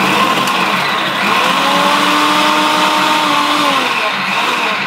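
An electric vegetable chopper, a Robo Cook mixer attachment cutting vegetables, whirs steadily and loudly with a motor whine that rises and dips in pitch as the blades work.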